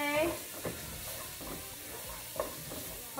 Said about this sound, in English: So we're going to let that saute